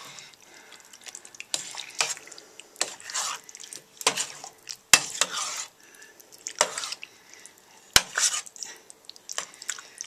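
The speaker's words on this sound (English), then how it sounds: "give it another mix, being careful not to spill it" A wooden or metal spoon stirs spaghetti bolognese sauce in a pan, giving repeated close scraping and wet sloshing strokes in an uneven rhythm, with a couple of sharp clanks against the pan and no talking.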